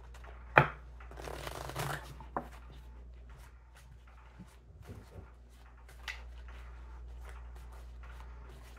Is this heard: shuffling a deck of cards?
yes